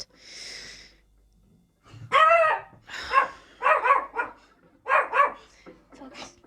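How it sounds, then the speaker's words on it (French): A pet dog barks in short bursts at a mailbox sound heard from indoors, several loud, close yaps in uneven clusters after a brief faint tone. "Mon chien, il a entendu la boîte aux lettres."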